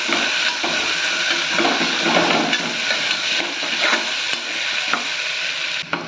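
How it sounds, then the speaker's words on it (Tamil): Onions, garlic and green chilli sautéing in a hot pan on low heat give a dense, continuous sizzle and crackle, with occasional light stirring scrapes and no voices. "அடுப்பை சிம்ல வச்சு நல்லா வதக்கிக்கலாம்"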